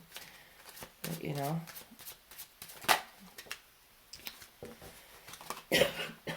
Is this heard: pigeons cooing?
no